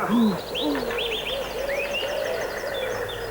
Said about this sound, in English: All you can hear are the birds singing.